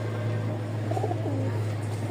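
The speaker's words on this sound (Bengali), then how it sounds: "খুব সুন্দর কবুতরগুলো রাজশাহীর।" Rajshahi Giribaz flying pigeons coo in a low, rolling murmur over a steady background hum, a few soft calls rising and falling close by.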